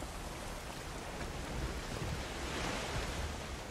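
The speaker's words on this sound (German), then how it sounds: "Der Wind kommt jetzt von dort." Steady broadband wind roaring in the Valheim video game, a continuous whooshing gust that swells slightly midway, with no voices.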